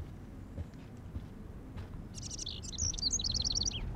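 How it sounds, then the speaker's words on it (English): A bird chirps indoors in the video game Life is Strange: a quick run of bright, high tweets over a low room hum, close and clear. "Oh, jeez, can you help me get this bird out of here?"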